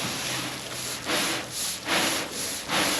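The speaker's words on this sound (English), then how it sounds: "You have to scrub." Scrubbing a new hood for a 1985 short bed 4x4 truck, about five rhythmic rubbing strokes in quick succession, close and fairly loud, with no talking.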